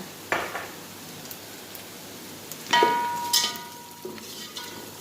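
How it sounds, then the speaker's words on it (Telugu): Whole spices frying in hot oil in a pan, with a soft continuous sizzle broken by a few sharp metallic clinks of a spoon against the pan. "ఇవి వచ్చేసి ఇప్పుడు వేస్తున్నాను స్పైసెస్ అనమాట"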